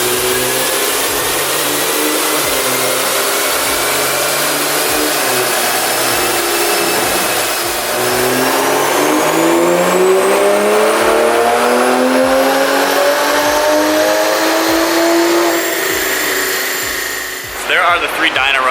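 A Toyota A90 Supra engine revving on a dyno run, loud and sustained with a steadily climbing whine and engine note, ending abruptly as the throttle lifts near the end.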